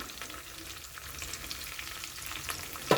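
A spice paste with ground spices fries and is stirred in a pan, giving a soft, low sizzle with scattered scraping strokes and a sharper clack near the end.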